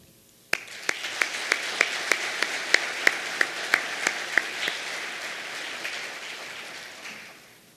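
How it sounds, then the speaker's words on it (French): Audience applause at a cocktail evening of an international finance summit, starting abruptly with a string of distinct sharp claps and then settling into a steady dense patter that fades at the end. "je vous invite à vous joindre à moi pour applaudir ces travailleurs inlassables"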